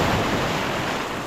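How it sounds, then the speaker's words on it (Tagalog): Ocean surf washes and rolls steadily along a shoreline, a continuous broadband rush with no pauses, heard up close under a breezy, wind-touched open-air setting. "May alon pa nga."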